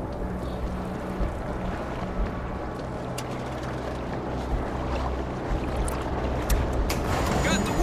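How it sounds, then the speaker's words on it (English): A ship arriving in the video game World War Z, heard as a dense, steady rumble of engine and water noise that swells slightly, mixed with game effects and voices talking over it. "Ship's coming in."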